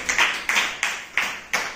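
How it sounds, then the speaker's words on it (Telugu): Children in a classroom clapping during a maths shapes activity, five short rhythmic bursts of applause at an even pace, fairly close and clear. "అందరికీ క్లాప్స్ కొట్టండి."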